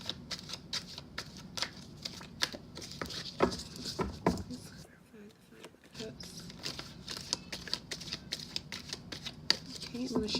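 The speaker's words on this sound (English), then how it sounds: "I'm going to shuffle one more time" Rapid papery riffling of tarot cards being shuffled in repeated bursts, close up, with a brief quiet pause midway.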